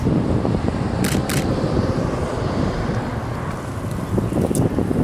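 Two quick camera shutter clicks in a row stand out above steady wind and outdoor rumble at sunset near Notre-Dame de Bonsecours Chapel.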